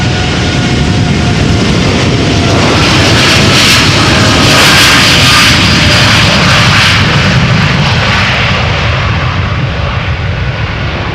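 A TUI Boeing 787-8 Dreamliner departing Amsterdam Schiphol for Willemstad, its jet engines giving a loud, sustained roar that swells and then slowly recedes, with no voices over it.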